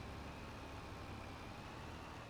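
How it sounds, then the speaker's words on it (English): A tractor engine in Farming Simulator 25 drones steadily and loudly as it labours under load, a continuous low rumble with no talk over it. "Tractor's struggling here, everyone."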